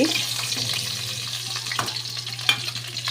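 Potatoes frying in oil in a pan while a chicken curry is being made, a steady close sizzle with soft stirring clicks and a low hum underneath.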